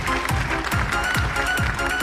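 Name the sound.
audience applause at a concert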